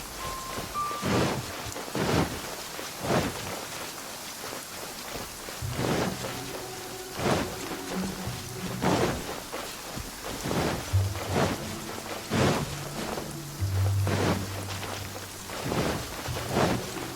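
Steady rain with rolling thunder claps in the Genshin Impact video game, a continuous wash of falling rain punctuated by several deep booms, alongside a soft in-game musical tone.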